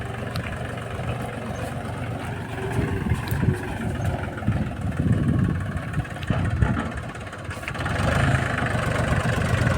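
A tractor loaded heavily with stones idles nearby, a steady low engine rumble running throughout with slight swells in loudness, no voices.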